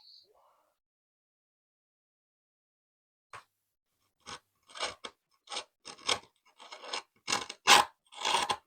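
Skateboard grip tape being trimmed with a blade: a series of short rasping cuts, sparse at first, then quicker and louder, close to the microphone after a brief faint sound at the start.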